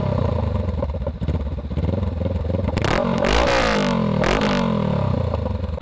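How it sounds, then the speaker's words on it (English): A 2020 Honda Rebel 500 motorcycle idles with a steady, throaty exhaust burble, then two sharp throttle blips rise and fall in pitch, close and loud with no speech. "Give you a couple of exhaust revs."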